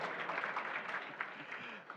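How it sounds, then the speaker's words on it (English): Audience applause at a football Q&A evening in a club hall, a steady wash of clapping lasting about two seconds with a few sharper claps standing out. "Round of applause."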